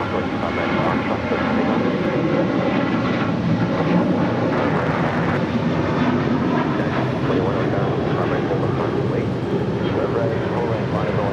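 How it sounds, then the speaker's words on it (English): An American Airlines Boeing 737-800 departing LAX for Las Vegas roars in a steady, loud jet rumble that holds throughout, with some faint talk underneath. "That was American Airlines Flight 1889 heading to Las Vegas in the 737-800."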